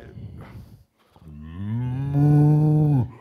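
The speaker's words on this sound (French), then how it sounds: "Des vaches dans les bois?" A cow lets out a long, deep moo close by, rising and holding before cutting off, after a few rustling sounds.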